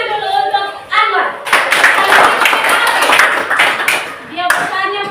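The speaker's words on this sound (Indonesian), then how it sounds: "Dari kasih tepuk tangan dulu untuk Anwar." An audience applauds for Anwar at a university event in Bali, a dense burst of clapping that swells and then fades, with voices talking over it.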